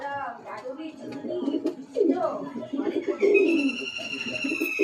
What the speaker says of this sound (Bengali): এই হলো পাঞ্জা পায়রার।